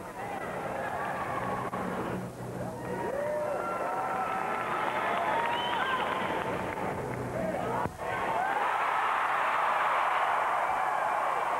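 Large arena crowd at the 2003 gymnastics world championships in Anaheim roaring, cheering and applauding in a loud, sustained wash, with a commentator talking over it and a swell near the end.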